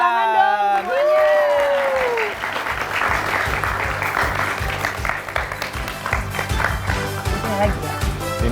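Studio audience applause at a Ramadan quiz show, a steady wash of clapping with rhythmic tapping and background music underneath, after a short opening of voices and musical tones.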